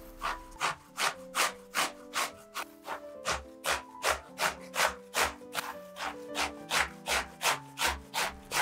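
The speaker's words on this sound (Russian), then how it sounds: "Я беру кабачок и тру его на крупной терке." A zucchini is rubbed across a coarse grater in a kitchen, a steady series of about two dozen rhythmic rasping strokes, close and evenly paced, with no voices.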